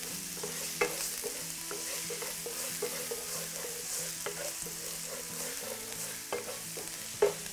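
Ginger and minced garlic stir-fried in oil in a wok, a steady close sizzle broken by the scrape and clatter of a spatula stirring, with a few sharper knocks near the end and no talking.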